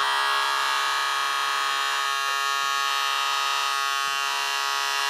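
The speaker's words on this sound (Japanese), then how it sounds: "あー、ひげ剃りしてる。" A toy electric shaver buzzes steadily and continuously at close range, a bright, loud, unbroken hum with no talk.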